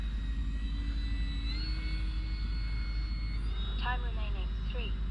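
An E-Flite RV-7 electric RC sport model airplane with a 1.1 m wingspan flies, giving a steady, fairly faint motor whine that shifts pitch slightly, with a few brief chirps near the end.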